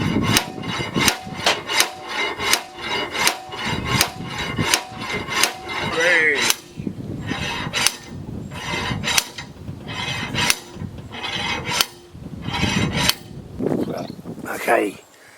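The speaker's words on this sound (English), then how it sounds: "just trying to get this gib key out of the flywheel here." Metal hammer blows ring out as a gib key is driven from the flywheel of a Lister CS engine on a Broomwade compressor set, with steady repeated strikes about every half second, close and sharp.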